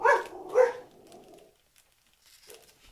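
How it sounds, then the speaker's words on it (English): A dog indoors during a baseball card box break gives two sharp, close barks in quick succession, then falls silent, leaving only faint room noise and a soft yelp near the end. "Sorry, dog freaked out there."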